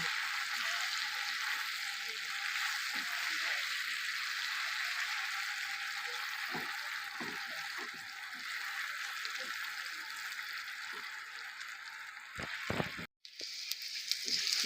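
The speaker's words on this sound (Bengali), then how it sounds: "ভালো করে বেগুনটা ভেজে নেব।" Eggplant frying in a pan with a little cumin and chili powder, giving a steady soft sizzle and hiss throughout with a few faint clinks and stirs.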